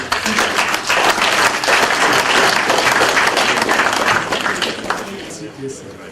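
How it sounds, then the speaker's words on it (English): An audience at a reception in Houston applauds a speaker being introduced, with dense, loud clapping from a large crowd sustained for about five seconds, then tapering off with a few scattered claps and faint voices. "A round of applause for Obiozo."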